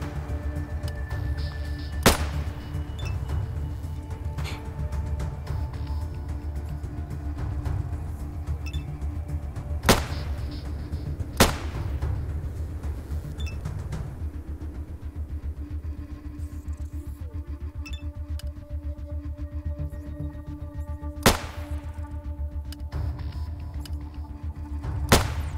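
Sporadic gunshots in the ATOM RPG video game, sharp isolated cracks spaced several seconds apart over a continuous low ambient drone, with no voices.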